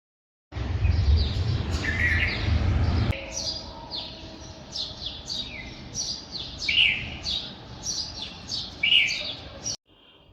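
Several small birds chirp and tweet outdoors in the early morning, repeated bright calls overlapping in a lively chorus after a brief low rumble at the start, with no talking.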